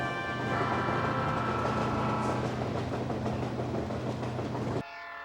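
An Alaska Railroad train moves through the backcountry with a loud, sustained rumble, clattering wheels on the rails and a long tonal horn blast, all cutting off abruptly near the end.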